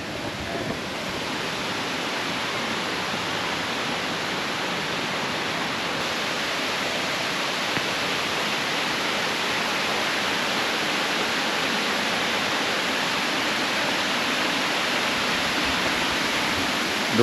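Khlong Lan waterfall in Kamphaeng Phet, Thailand, roars as a steady, dense rush of falling water, loud and unbroken throughout with no voices over it.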